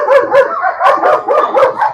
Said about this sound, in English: You hear those working dogs over there just rap, rap, rap, rap, rap, rap